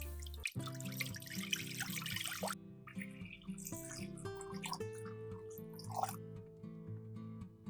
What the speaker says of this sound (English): Next, add water to the pot.